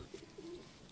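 Multani Khal pigeons kept by a fancier give soft low coos, a few short calls and one longer drawn-out note, faint and close against a quiet background.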